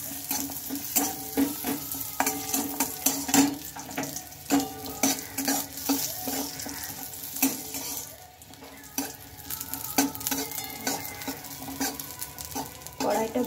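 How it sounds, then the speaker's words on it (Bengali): Cashews and raisins are stirred around a very hot wok, a steady sizzle broken by frequent scraping strokes of a spoon against the metal, close and fairly loud, with no talking. "কাজু আর কিশমিশটা দিয়ে একটু নেড়ে চেড়ে নেব।"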